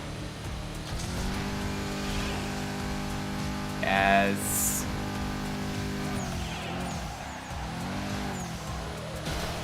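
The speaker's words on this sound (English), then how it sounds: "Oh, I love the muscle cars. They just have so much soul and character in them. And the sound of the V8s." A V8 muscle car engine revs in the racing game Midnight Club LA Remix, a loud, sustained growl that rises and falls through gear changes. A brief high chirp sounds midway, and a voice briefly speaks over it.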